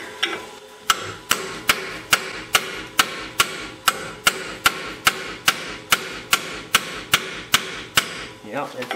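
Repeated metal tapping on the brake wheel cylinders of an old farm parade wagon, about two sharp strikes per second at a steady rhythm, close and fairly loud.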